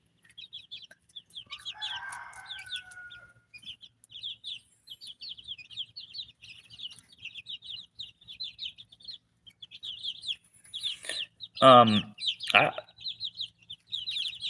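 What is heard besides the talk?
chickens clucking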